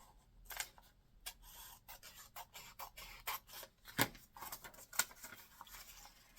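Scissors snip through a folded book page at the centre crease, a quiet run of short crisp cuts and paper rustles, fairly close and with no talking.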